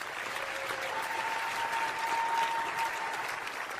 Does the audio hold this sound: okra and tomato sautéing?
no